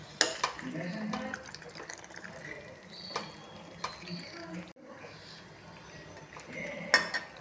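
Fish masala fry (vaam fish) being mixed in a pan: scattered clinks and scrapes of a utensil against metal, with soft wet stirring sounds and a sharper clank near the end.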